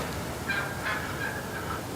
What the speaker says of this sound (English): I think there's Tom with them.